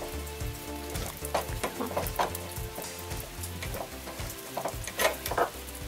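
Rain from a steady rainstorm spatters onto surfaces at an outdoor solar panel installation, making a close, continuous hiss and crackle with irregular louder drips and taps.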